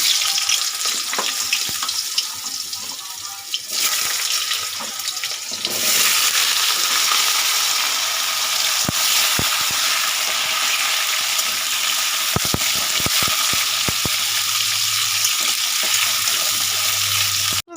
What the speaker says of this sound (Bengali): তাহলে আমি কুমড়োটা এবার একটু ভেজে তুলে নেব